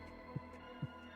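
A voice imitating a heartbeat pounding in the ears, two soft low thumps spaced about half a second apart over a faint hum.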